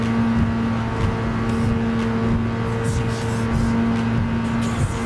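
A LaFerrari race car engine in Gran Turismo Sport holds a loud, steady drone at high revs, close and continuous with a strong sustained tone.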